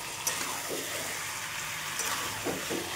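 Curry being sautéed in a pan, a low steady sizzle and hiss running throughout with faint stirring scrapes, close and fairly quiet.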